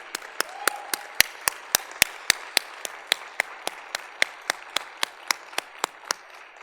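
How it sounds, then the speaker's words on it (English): A forum audience at Morehouse claps in an evenly spaced rhythm, each crisp clap standing out sharply and steadily for several seconds with no talk over it. "Can we give her one more round of applause"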